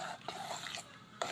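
Hotcake batter being stirred until smooth in a bowl, a few soft wet swishes and light scrapes, close and fairly quiet.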